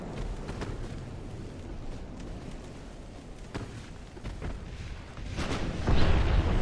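Naval main guns of 11-inch caliber fire and strike their targets in Ultimate Admiral: Dreadnoughts, with scattered heavy booms rumbling through a constant roar that swells into a louder impact near the end.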